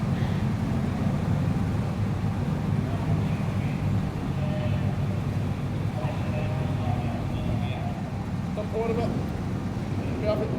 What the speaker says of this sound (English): The vibrations from all the engines are quite awesome, really, inside this boat.